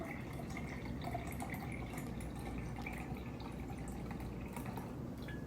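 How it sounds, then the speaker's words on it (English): Cold brew coffee is poured slowly into a cup, making a quiet, continuous trickle and light dripping, close and steady with no talk. "let's pour the cold brew"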